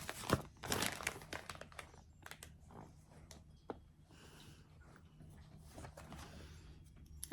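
Packaging and a faux-leather pouch for a DJI Osmo Pocket 3 crinkle and rustle up close as they are opened, with sharp crackles early on easing into softer handling noise.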